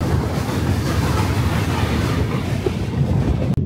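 The Agartala to Kolkata Garib Rath Express runs with a continuous loud rumble of wheels and carriages, some wind buffeting and faint clatter, steady throughout and ending in a brief knock.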